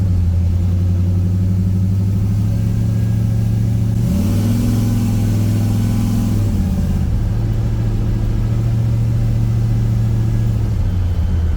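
A car engine runs loud and close on its first drive, a steady idle hum lifting into a few seconds of revving before settling back to a low, even drone.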